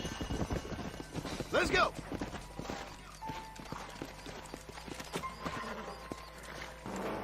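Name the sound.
horses trotting and neighing in Red Dead Redemption video game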